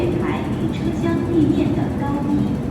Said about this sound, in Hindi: और मेरी ट्रेन भी आ चुकी है।